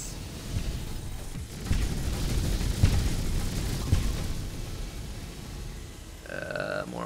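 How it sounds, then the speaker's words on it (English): Explosions in the video game Picayune Dreams: a dense, continuous rumble of overlapping booms and bursts with stronger thumps throughout, ending with a few bright electronic tones. "More alternate explosions."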